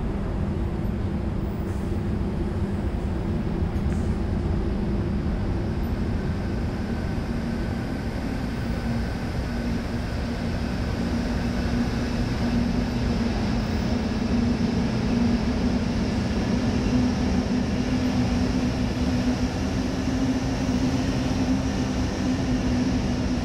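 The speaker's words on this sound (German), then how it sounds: "der Zug setzt sich in Bewegung" An ÖBB BR 193 Vectron electric locomotive pulls a train away in Train Sim World 4 on the Vorarlberg line, a steady continuous motor hum and rolling rumble that holds level throughout, with no talking.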